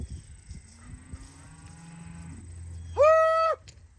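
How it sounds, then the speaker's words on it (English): Cattle being herded across a drought-stricken farm field give one loud, drawn-out moo near the end, following quieter low lowing and shuffling in the background. "We're moving cows over there."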